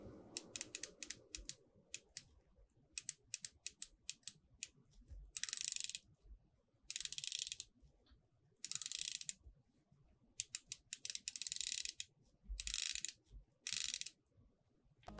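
Seiko SNE569 midsize diver watch with an aluminum bezel being turned by hand gives close, crisp ratcheting clicks in quick runs and denser bursts separated by short pauses, with no voices.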